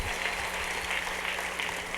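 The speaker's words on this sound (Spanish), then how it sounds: "denles aplauso al Señor con fuerza" A church congregation applauding during a service, dense continuous clapping from many hands filling the room, steady and fairly loud with no talk over it.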